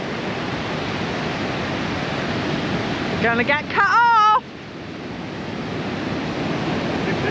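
Large ocean waves breaking along a shore in Morocco, a loud continuous roaring wash of surf with wind buffeting the microphone, as a person talks briefly partway through.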